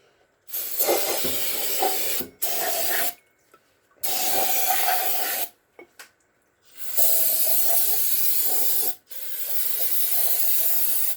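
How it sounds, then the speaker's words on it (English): A shop parts cleaner sprays solvent over small hydraulic cylinder parts from a Case Ingersoll tractor in bursts, a loud close hiss starting and stopping about five times with short silent gaps. "This is our little parts cleaner we usually use for cleaning up carburetors and small stuff."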